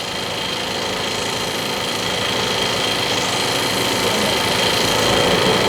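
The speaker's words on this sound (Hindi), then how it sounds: "कितने बारीकी से, कितने ध्यान से आउटलाइन पे ही ये जो है एम्ब्रॉयडरी का काम किया जा रहा है।" An embroidery machine stitching outlines on cloth in a clothing factory runs as a loud, steady mechanical whir with a rapid needle rhythm throughout, without voices.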